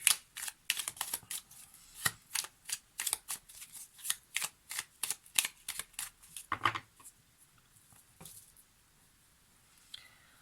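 Tarot cards are shuffled for a reading in a run of quick crisp riffling flicks, then a pause and a few final taps, close and fairly soft with no talking.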